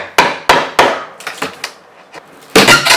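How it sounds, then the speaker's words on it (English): Sharp, loud hammer-and-chisel blows on a wooden crate, three in quick succession, then softer taps and a final burst of knocking and splintering. "You'll need a chisel and a hammer to get it apart."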